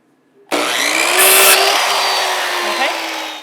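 A power saw cuts a miter through wood, starting abruptly with a loud, steady whine and a bright burst of noise midway as the blade bites the workpiece, running continuously for about three seconds.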